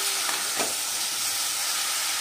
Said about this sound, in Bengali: এবার একটু নেড়ে চেড়ে দিয়ে আমি এটাকে একদম কম আঁচে ঢাকা দিয়ে দেবো